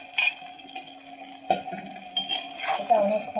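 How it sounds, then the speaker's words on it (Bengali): Flat beans get stirred in a pan, with a utensil scraping and clinking against the metal in short bursts over a faint sizzle. A brief muffled voice is heard in the background. "এটা অনেকক্ষণ নাড়াচাড়া দিয়ে আমার ভাজা ভাজা করতে হবে"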